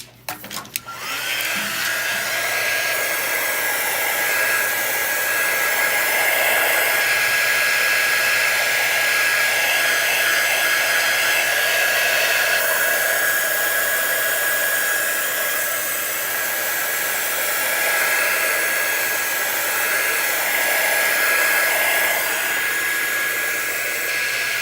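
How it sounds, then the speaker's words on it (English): A handheld quick dry tool, a heat gun used to dry craft pieces for a wall hanging, blows a steady, loud, continuous rush of air with a whining tone, running nonstop after a brief start. "I'm gonna pull out my quick dry tool."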